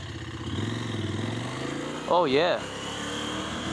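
A CFMOTO Ibex 950 adventure motorcycle in off-road mode hums at a low, steady throttle, close and even, while a rider speaks briefly over it partway through.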